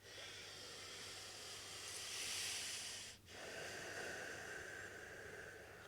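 Slow, deep yoga breathing during gentle neck rotations, a steady close airy rush that swells into a long exhale and briefly pauses before the next breath, over a constant low hum.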